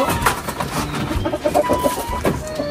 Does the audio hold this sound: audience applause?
no